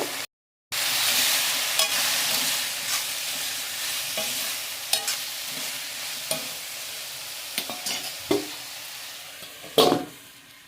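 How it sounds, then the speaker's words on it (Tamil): Potato fry cooking in a pan with chilli powder and salt, a steady sizzle broken by scattered spatula scrapes and stirring knocks, close and without talk. "இதை போட்டு நல்லா கிண்டி விட்டு சிம்மில் வச்சு மூடி போட்டு வேக வைங்க"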